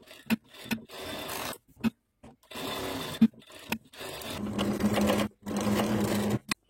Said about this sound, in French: on surfile le tour de nos deux fonds de poche